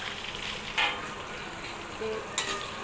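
Sliced onions stirred into hot oil with curry leaves and tempering spices, a steady close sizzle broken by a few spoon scrapes against the pan.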